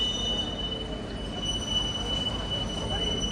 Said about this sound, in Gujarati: હાલો તો આપણી ટ્રેન આવી ગઈ છે